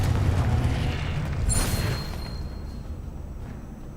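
A Confringo fire spell blast in Hogwarts Legacy erupts as a booming burst with a bright crackle around the middle, then fades into a lower rumbling tail.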